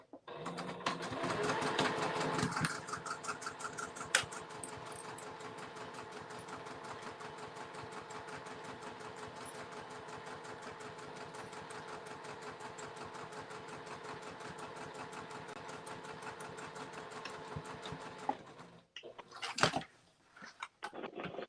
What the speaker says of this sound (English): One more stitch line.